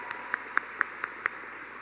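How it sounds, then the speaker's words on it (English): A handful of sparse, separate handclaps from the audience at a Hall of Fame induction show, welcoming the emcee. They land in an uneven rhythm, fairly faint over a quiet room. "if you can give him a big round of applause"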